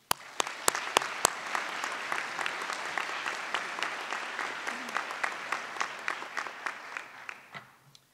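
An audience at a pharmacy school white coat ceremony breaks into sustained applause to welcome a guest speaker, with a few sharp individual claps at the start settling into steady, dense clapping that fades near the end.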